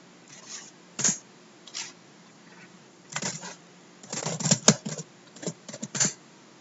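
Typing on a computer keyboard while logging into a MariaDB database container, heard as scattered short bursts of key clicks with pauses between them, fairly quiet and close.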